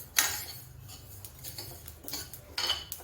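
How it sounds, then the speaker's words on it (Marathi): Quiet metallic clinks and scrapes of a utensil against a pan as poppy seeds and oil roast, with a few sharper taps spread through. "खसखस आणि तेल भाजून घेतोय."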